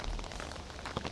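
Rain falling during Japan's rainy season, a dense, steady patter of drops on surfaces with a few slightly louder splashes, continuous and fairly close.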